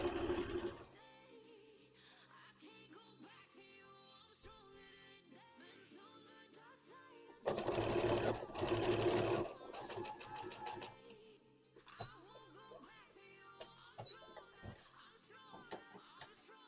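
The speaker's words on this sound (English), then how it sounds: "Quick, sew it together." A sewing machine stitches a Splatoon hat in bursts, with a loud sustained run of rapid stitching in the middle and lighter whirring and clicks around it, no speech.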